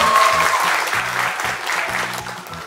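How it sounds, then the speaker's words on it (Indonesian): An audience applauds in a strong, continuous burst of many hands, with music playing underneath. "Terima kasih, tepuk tangan dulu semuanya."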